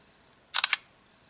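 An LG G2 smartphone camera fires its shutter on a spoken command, a quick, crisp double-click burst up close, followed by silence.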